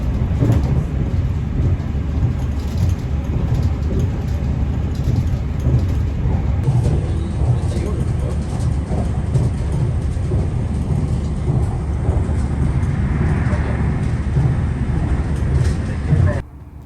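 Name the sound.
train leaving Belfast suburbs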